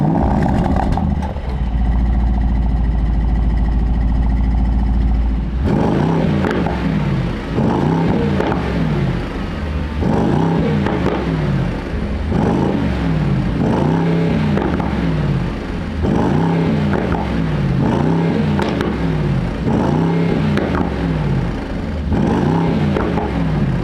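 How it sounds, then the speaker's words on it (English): A Mercedes-AMG SL63/SL55 engine idles with a deep, steady burble, then is revved repeatedly in a series of loud, rhythmic throttle blips that rise and fall close by, with no talk. "But the engine is glorious and it sounds fantastic."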